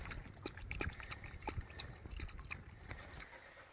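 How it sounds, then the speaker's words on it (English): Soft wet lapping and trickling as a dog drinks water, irregular splashy laps close by, with faint outdoor background. "Abby, come have some water."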